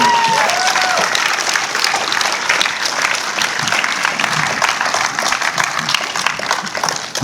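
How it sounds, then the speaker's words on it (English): Audience applause at a film festival Q&A, loud dense clapping sustained evenly from start to finish, close and full. "Give her a round of applause."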